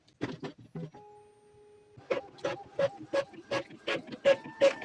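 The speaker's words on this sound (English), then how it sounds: "The printer can feed paper normally again." An Epson printer feeds paper and prints after a paper-feed fault was fixed. The mechanism gives a close series of whirring motor pulses and short clicks, with a steady hum partway through, then quicker regular strokes as printing proceeds.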